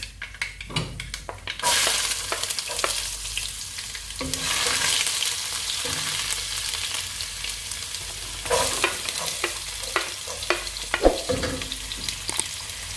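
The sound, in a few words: sautéing garlic, ginger and curry leaves for mango pickle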